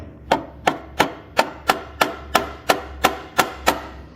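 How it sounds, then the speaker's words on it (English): A screwdriver head tapping gently on a metal sewing machine part, eleven sharp, evenly spaced knocks about a third of a second apart, close and clear with nothing else heard. "we are going to tap it very gently so that this part moves down a little, not too much"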